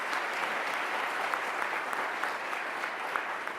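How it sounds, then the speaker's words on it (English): Dense, even applause from an audience at an anniversary ceremony for a police community office, a steady wash of many hands clapping at constant loudness throughout. "So please join me in giving them a round of applause"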